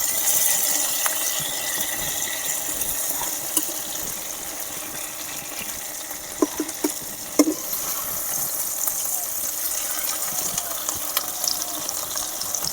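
Hilsa fish patoori wrapped in gourd leaf frying on low heat in a pan, giving a soft, steady sizzle throughout with a few faint clicks of utensils.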